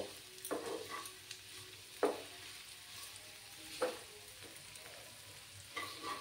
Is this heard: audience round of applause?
no